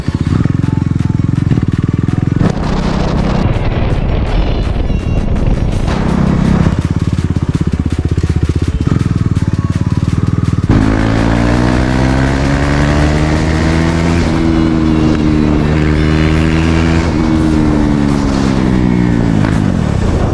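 A KTM Duke 390 ridden with its muffler removed gives a loud, raw exhaust blare that persists throughout, climbing through rising and falling revs with clear harmonic sweeps as it accelerates, steady and close.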